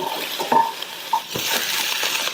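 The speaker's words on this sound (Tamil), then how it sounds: "நீங்க பக்கத்திலேயே இருந்து இந்த மாதிரி வதக்கிட்டீங்கன்னா எல்லா வெங்காயமுமே நல்லா ஒண்ணு போல வதங்கும்" Sliced onions and green chillies are sautéed in a pan, with soft frying hiss under close, intermittent metallic clinks and scrapes from stirring.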